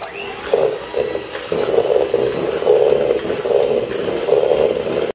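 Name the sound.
electric mixer beating vanilla mixture until creamy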